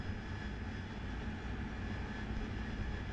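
An AV-8B Harrier jet engine in the DCS World flight simulator runs as a steady, loud, broad roar that holds even throughout, with no voices over it.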